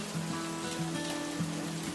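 Steady rain pours down at a railway station platform, a continuous close hiss of water with faint low thuds, no voices.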